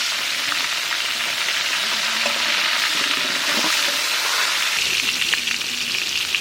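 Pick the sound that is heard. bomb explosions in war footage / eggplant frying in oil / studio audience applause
eggplant frying in oil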